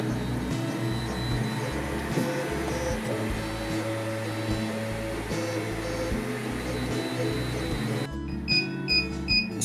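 A TierTime UP300 FDM 3D printer running an ABS print gives off a steady, continuous mechanical hum with pulsing low stepper-motor tones, close and fairly loud, shifting to brighter beeping tones near the end.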